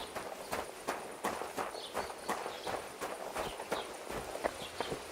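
Horse hooves clip-clop in Kingdom Come Deliverance II, a steady rhythmic walk of sharp hoof strikes repeating about every half second, moderately close and quiet.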